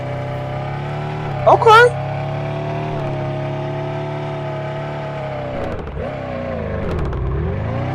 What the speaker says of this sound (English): Okay, drifting. If we drift this.